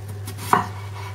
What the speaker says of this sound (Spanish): las vamos a cortar en rodajas, que no sean finas, pero tampoco nos vamos a pasar.